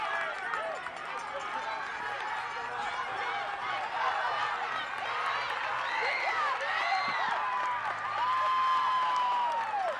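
Crowd lining the final 100 meters of a cross country championship race cheering and shouting as runners come in to the finish, a continuous lively mix of voices and whoops with footfalls underneath.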